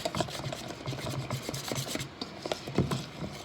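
A hand whisk scrapes and swishes through fruit cornbread batter in a bowl, a close, quiet run of quick rubbing strokes with no talking.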